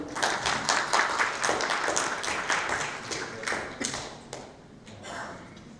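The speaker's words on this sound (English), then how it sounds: "A round of applause, ladies and gentlemen." Audience applause for a panelist joining the stage at a panel discussion: dense, steady clapping from a crowd that starts full and gradually thins and fades toward the end.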